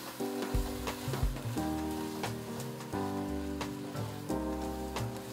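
Wine sizzles and hisses steadily as it evaporates in a hot pan with fried ham for risotto, with brief bursts of stirring close by and no talking.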